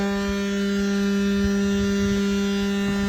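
A DT220 concrete vibrator rated for 380 volts runs on a 220-volt test supply, giving a steady, even motor hum with a strong low drone that holds unchanged throughout.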